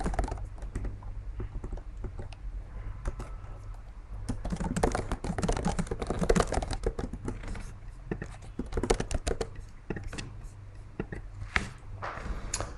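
Typing on a computer keyboard during a text-message marketing software walkthrough: a steady run of light, rapid key clicks with bursts of quicker strokes, close and fairly quiet, under soft talk.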